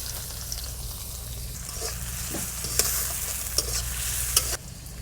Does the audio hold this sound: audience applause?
no